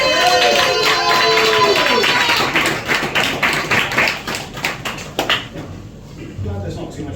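Comedy club audience in Cheltenham applauding comedian Danny Moore, a dense burst of clapping that starts loud, then thins into scattered claps and settles as the room quiets, with whistle-like tones and voices mixed in early on.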